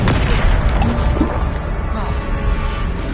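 Bombarda spell explosion in the Hogwarts Legacy video game, a loud heavy boom with rumbling crash and debris that fills the scene and slowly decays over a few seconds.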